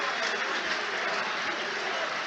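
Arsenal supporters at a Premier League stadium match against Brighton & Hove Albion erupt in a sustained, dense roar of cheering and clapping, steady and loud throughout.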